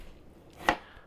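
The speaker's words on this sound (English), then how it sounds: "and then you cut" A knife makes a single sharp chop through an onion on a cutting board, close and distinct against quiet kitchen room tone.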